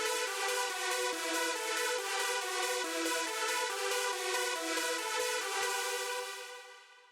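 A main supersaw synth lead layer from an electronic track, bright and dense with stacked detuned harmonics, playing a steady melodic line of held and shifting notes alone before fading out at the end.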